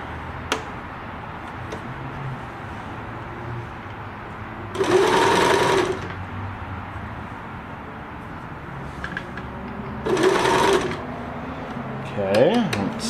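Euro Pro X 390H sewing machine, older and rusty, stitching a wide zigzag in two short loud bursts of rapid whirring, separated by quiet handling noises, with a brief mechanical squeak near the end.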